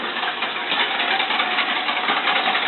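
A whisk beats eggs and half a cup of milk for a crab quiche, a fast, steady rattling whir against a bowl that runs continuously at moderate loudness with no talk.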